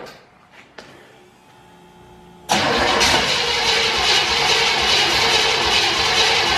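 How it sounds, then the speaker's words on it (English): A car engine, running on a new fuel system, is fired up: a few quiet clicks and cranking noises, then it abruptly catches and settles into a loud, steady, close-up run. "let's fire it up on the new fuel system and new tires"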